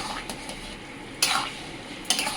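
Half-boiled vegetables are stirred with sukto spice mix for Bengali sukto, giving a quiet sizzle with two sharp utensil scrapes against the pan.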